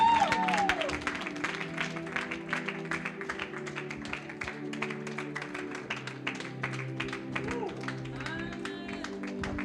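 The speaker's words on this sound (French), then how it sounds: "Clap for Jesus." A church congregation clapping together during worship, a dense run of rapid handclaps, loud and sustained, with sustained musical tones and faint voices underneath.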